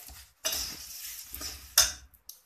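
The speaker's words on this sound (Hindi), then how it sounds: "देखिए अब इसमें ये मुरमुरे डाल के," Puffed rice tumbles into a pan with turmeric and a little oil and is stirred, giving bursts of dry rustling and scraping with short pauses between strokes and no talking.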